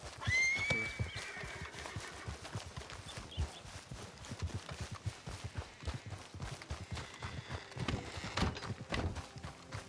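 A horse in the video game GoldRush RP gives a high whinny near the start while hooves clip-clop steadily and busily throughout, close and moderately loud.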